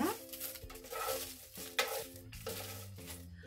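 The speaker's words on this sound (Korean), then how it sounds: "불을 약불로 줄여주세요. 약불로 줄여주고 이렇게 섞어주세요." A kelp mixture is stirred in a pan over low heat. Quiet frying crackle sits under repeated scraping and clinking of a utensil against the pan, with a faint tonal hum in the background.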